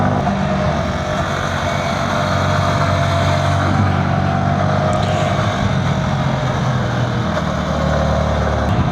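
A Porsche GT3 RS engine drones steadily from inside the car as it drives along small country roads, a continuous, fairly loud low rumble with no talking.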